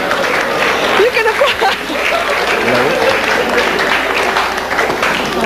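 A television talk-show studio audience applauds in a sustained, dense wash of clapping, loud and close, with a voice speaking over it.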